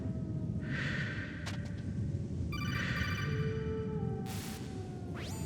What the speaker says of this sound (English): Just take the phone call right in front of the fucking gun, dude.